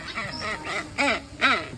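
Birds at a Bali bird park giving a handful of nasal, quacking calls in quick succession, close and fairly loud.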